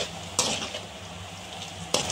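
Onions with rock salt sizzle in a pan, a steady frying hiss broken by two sharp spatula scrapes against the metal.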